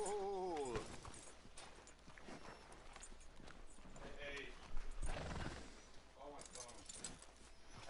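Horse hooves clop steadily with a brief whinny, under ongoing talk and a background score, in a PS4 game scene.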